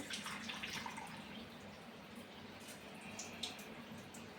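Water drains out of soaked ration rice in a vessel, giving a faint, steady trickling and splashing close by with a few brighter drips, and no talk.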